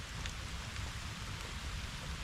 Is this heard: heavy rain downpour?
yes